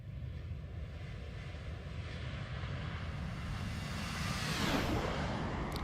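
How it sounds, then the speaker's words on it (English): A Toliss A321 airliner in a flight simulator passes low on a flyby, a steady broad engine roar that swells gently toward the end with a faint whoosh as it goes past. "Lovely flyby sounds."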